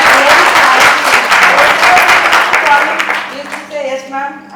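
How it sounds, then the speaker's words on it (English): A dense burst of audience applause at a Mother's Day event fills the first few seconds, then thins out as a voice starts speaking over the last scattered claps. "So big round of applause."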